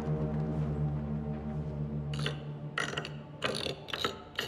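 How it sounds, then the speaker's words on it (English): A safe is cracked open in the Hitman 3 video game, with mechanical ratcheting clicks and gear-like clunks arriving in several short bursts over a low steady hum. "so we can come over here and crack open the safe"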